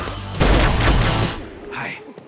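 Bursts of gunfire in a zombie comedy movie trailer, a loud rapid volley of shots followed by a fainter echoing blast, with music and effects mixed dense and close.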